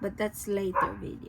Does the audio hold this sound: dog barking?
yes